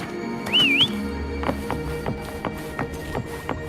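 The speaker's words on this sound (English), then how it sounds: "Why don't you call Foam over? Try whistling" In a video game, a rising-and-falling whistle sounds once, then a horse answers with hoofbeats approaching in a steady clip-clop rhythm, moderately close, with no talk.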